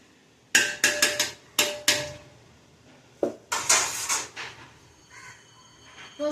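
A pot of chicken biryani being sautéed with a spoon and then covered: several sharp metallic knocks and scrapes of utensil on pot, a pause, then a clattering lid being set in place, close and fairly quiet.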